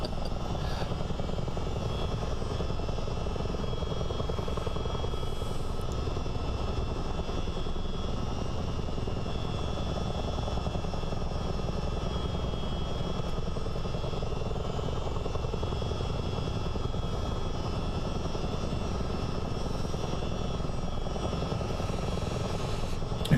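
Chinook CH-47 twin-rotor helicopter in flight in Microsoft Flight Simulator, a continuous loud rotor and turbine drone with steady thumping blade rhythm throughout.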